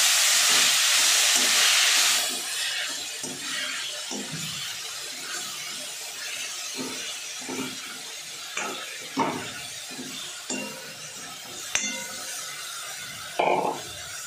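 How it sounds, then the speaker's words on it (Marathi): Fenugreek leaves (methi) frying in oil in a pan, a loud hiss at first that settles into a softer steady sizzle, broken by occasional stirring scrapes and knocks close by. "ही मेथी घालून घ्यायची। चांगलं परतून घ्यायचं याला।"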